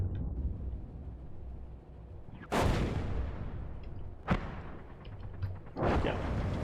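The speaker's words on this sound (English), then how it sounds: "Ooh, that is some serious artillery dropping in behind us." Artillery shells land in the tank combat game GHPC: three heavy, booming blasts spaced a couple of seconds apart over a low rumbling backdrop, with no voices.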